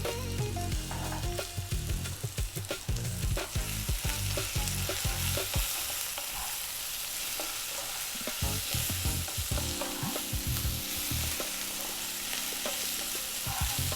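Onions frying hard in a pan with garam masala, turmeric, coriander, chili and cumin added for lamb bhuna, a loud steady sizzle with repeated stirring scrapes and clatters throughout, no voices.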